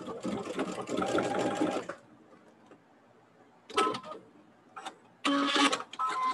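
A sewing machine stitches small quilt blocks together in quick bursts of rapid mechanical chatter, separated by quiet pauses, close and clear.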